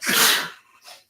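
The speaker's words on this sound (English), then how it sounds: "Oh, I have a sneeze coming on." One loud, close human sneeze bursts out sharply, followed by a brief softer exhale.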